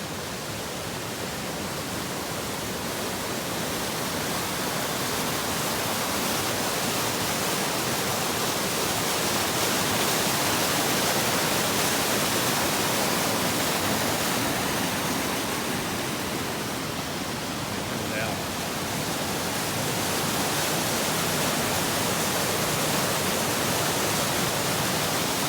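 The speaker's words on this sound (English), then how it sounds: "Get a shot of this waterfall here." A waterfall on a Smoky Mountains hiking trail between Chimney Tops and Elkmont rushes in a steady, broad roar that carries on without a break, close and fairly loud, with no talk over it.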